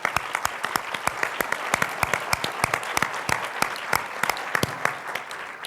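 Applause from a luncheon audience on a philanthropy day, a fairly sparse patter of distinct individual claps spread across the room, moderately loud and continuing without voices.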